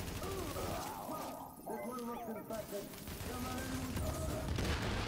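Gunfire in The Division, a third-person shooter game, comes in rapid bursts mixed with game sound effects and music, while a voice talks over it.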